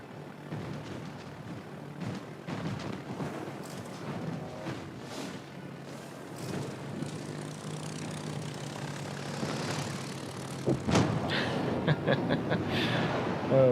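An aircraft engine drones past in a naval warship video game, a steady propeller hum that swells toward the end amid background game noise and light chuckling.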